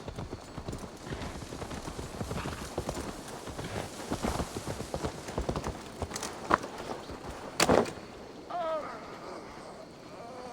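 Horse hooves clip-clop steadily across a game world in Assassin's Creed Valhalla, a continuous rhythmic patter at moderate distance with some wind and ambient noise, plus a few brief sharper accents near the end.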